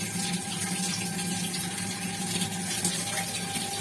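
Water pours steadily into a cooking pot while potatoes are being cooked for aloo posto in a home kitchen, a continuous close rushing hiss lasting throughout with no talk.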